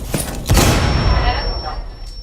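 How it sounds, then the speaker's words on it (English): A grenade explodes in Rainbow Six Siege with a loud, close blast that rumbles and fades over about a second, followed by a thin high electronic tone and a faint voice. "Grenade out."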